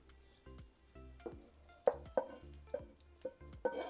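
Golden sautéed onion sizzles quietly in a frying pan while a stuffed-pepper filling is prepared, with a soft hiss broken by several sharp stirring clacks and scrapes spaced through the few seconds.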